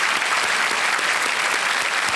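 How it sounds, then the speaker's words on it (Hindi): Studio audience applause on a Hindi TV quiz show, a dense, even wash of clapping that stays loud and constant for about two seconds with no talking over it. "तालियों के साथ हम आपका अभिनंदन करते हैं।"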